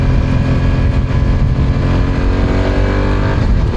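BMW F900R naked motorcycle with a 105-horsepower engine, heard riding at speed with a loud, continuous engine drone that stays steady and close throughout, with no talking.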